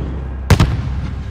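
A flare fired from a rooftop launcher in Call of Duty: Modern Warfare, a single sharp, loud launching bang with a quick double burst standing out from the low rumble of battle ambience.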